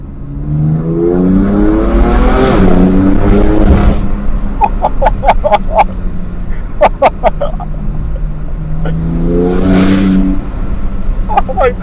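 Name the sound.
BMW F80 M3 S55 engine revving above 4,000 RPM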